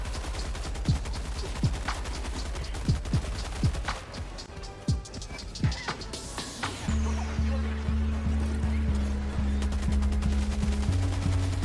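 A heavy machine gun in the Helldivers 2 video game fires at a Bile Titan, first in spaced single heavy shots, then in a long rapid stream of loud, close gunfire over a deep, rumbling in-game drone.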